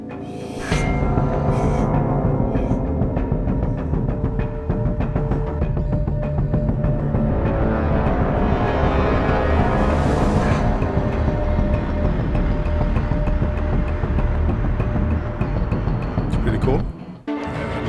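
A dense, rumbling layer of metallic clangs and drum hits from a Battlefield game soundtrack piece churns continuously and loudly, swelling midway before stopping abruptly.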